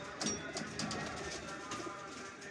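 Pigeons kept by a pigeon fancier coo softly over steady background noise, with a few brief calls scattered through the moment.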